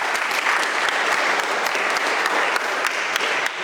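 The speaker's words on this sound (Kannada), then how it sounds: "ಒಂದು ಚಪ್ಪಾಳೆ." Dense, steady applause from a large crowd at an Agnipath army recruitment rally motivation class, filling the whole stretch at even loudness with no voices over it.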